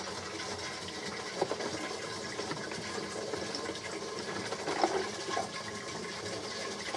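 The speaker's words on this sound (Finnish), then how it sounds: "Näin se lorisee kivasti se vesi ylöspäin." Water trickles and gurgles up through pipes in a low, continuous flow, fairly faint and steady, with a couple of brief louder sloshes partway through and no voices.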